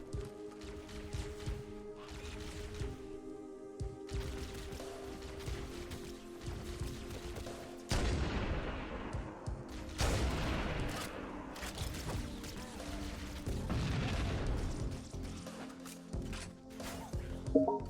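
Rapid gunfire and bursts of weapon fire during a fight against Covenant elites in Halo: Combat Evolved, steady and fairly loud throughout with heavier volleys and impacts in the second half.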